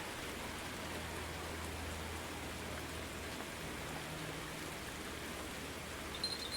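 Steady rain falling in the fishing video game Ultimate Fishing Simulator, a constant soft hiss of drops with a low hum beneath, even and unbroken throughout.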